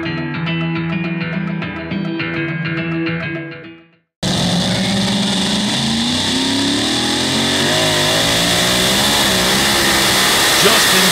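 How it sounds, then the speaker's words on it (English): Multi-engine pulling tractor with blown Hemi engines at a diesel tractor pull, a loud, dense, continuous roar of revving engines that climbs and holds close by, after a short burst of music cuts off. "The blown Hemi motor is ready to come to life."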